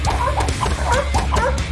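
A dog gives a rapid series of loud, high yips and short barks, close by, in an animated cartoon.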